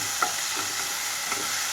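Drumstick leaves fry in a hot pan for chutney, a steady bright sizzle with a couple of quick scraping stirs, close and continuous.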